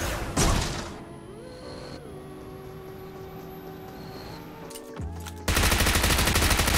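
Bursts of gunfire in a PUBG Mobile match, a sharp shot near the start and heavy sustained firing at the end after a quieter stretch with music.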